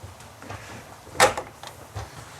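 The rear garage doors of a Forest River toy hauler RV are unlocked and swung open, giving one sharp latch clunk among a few soft knocks and rattles at close range.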